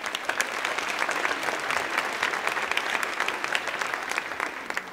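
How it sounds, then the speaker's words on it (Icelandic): An audience claps steadily at a women's team gymnastics competition, many hands blending into a dense, even roar of applause with sharp individual claps standing out, sustained throughout without speech. "Við skulum klappa fyrir þeim."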